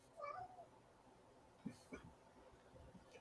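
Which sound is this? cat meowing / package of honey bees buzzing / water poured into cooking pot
cat meowing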